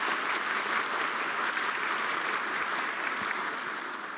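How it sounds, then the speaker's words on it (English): A conference audience applauds a presenter at the end of a talk on macOS deployment, steady dense clapping that fills the room evenly for several seconds and tapers slightly at the end, with no voices over it. "Everyone give Quinn a round of applause"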